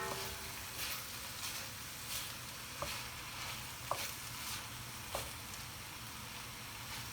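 A sauce of olives and mushrooms simmers in a pan with a faint, soft sizzle, punctuated by a few quiet clinks and scrapes as it is stirred now and then.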